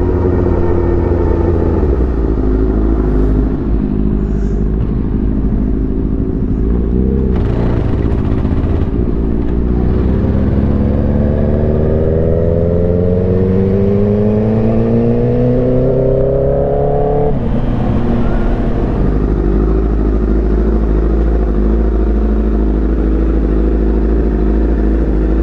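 A Honda Fireblade motorcycle engine runs steadily at close range, a loud continuous rumble with a couple of revs that rise in pitch and fall back to idle.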